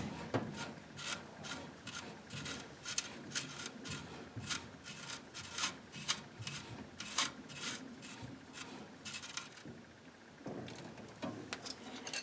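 A gas supply line nut being turned by hand onto an appliance fitting gives steady, close scraping and rubbing with rapid rasping bursts of metal on metal, running nearly continuously with no talking.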